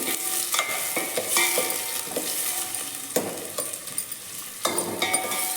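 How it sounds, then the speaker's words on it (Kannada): Onions and green chillies fry in a pan for horse gram palya, a steady close sizzle broken by repeated scraping and clinking stirs, no one speaking. "ಸ್ವಲ್ಪ ಕಲರ್ ಚೇಂಜ್ ಬರೋವರೆಗೂ ಫ್ರೈ ಮಾಡ್ಕೊಳ್ಳಿ ಈರುಳ್ಳಿನ"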